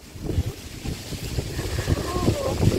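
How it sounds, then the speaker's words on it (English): Gusty wind buffeting outdoors, rising and falling, with scattered low thumps and faint voices in the background. "Ooh, it's so nice and windy."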